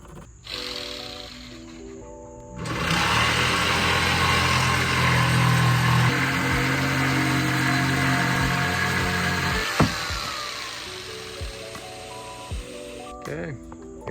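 A jigsaw cuts through the wood of an old dresser, a buzzing mechanical whine lasting several seconds between short stretches of someone talking.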